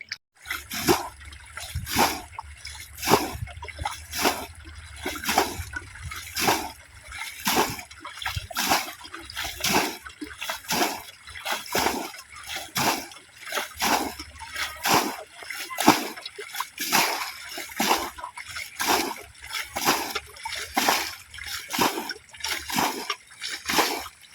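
Water is splashed out repeatedly in a village pond or ditch while bailing it out to catch fish. The scoops land in steady, rhythmic sloshes one after another, close by, with a voice talking intermittently.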